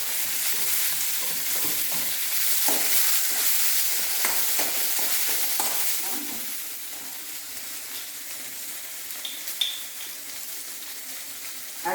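Curry leaves, onion, ginger, green chilies and garlic frying in hot oil, a steady loud sizzle that eases off after a few seconds, with light stirring scrapes and a few clinks.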